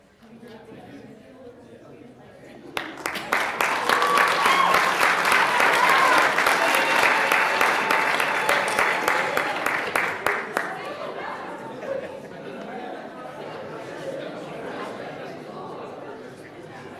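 An audience at a new venture competition breaks into loud, sustained applause that builds quickly and then fades away. Scattered voices and chatter continue underneath and after it.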